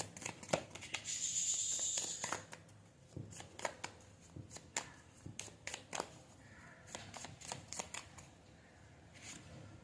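Tarot cards are shuffled with crisp riffling, then snapped and drawn one after another in quick, dry flicks, close up and quiet.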